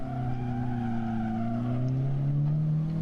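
A race car in a racing sim at Sportsland Sugo, its engine droning loudly with steady harmonics, then braking and dropping into third gear with a sharp rise in engine pitch near the end.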